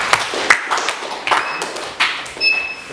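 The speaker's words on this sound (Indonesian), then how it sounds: "Kita kasih aplaus untuk kelompok." A classroom audience claps for a student group, with scattered, uneven hand claps and taps at close range. A few thin metallic pings ring through the short burst of applause.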